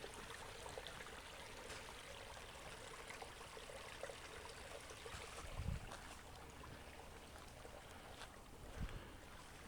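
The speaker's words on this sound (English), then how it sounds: "of water running through" Water runs steadily through a stream on the Mission Dam trail in Mission Trails Regional Park, a constant broadband rush with no pauses, and two brief low thumps partway through.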